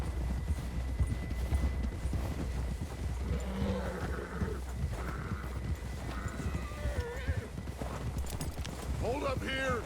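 Horse hooves galloping in a steady clip-clop rhythm in Red Dead Redemption 2, with an occasional whinny, under continuous game dialogue and music.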